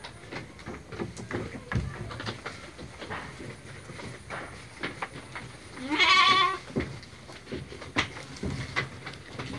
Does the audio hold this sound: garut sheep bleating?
yes